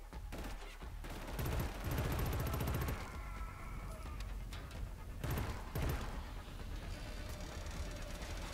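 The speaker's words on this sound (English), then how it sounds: "Who's shooting at me?" Gunfire aimed at the player in Killzone Shadow Fall, with dense rapid bursts of automatic fire coming in repeated volleys over a rumbling game backdrop and little talk.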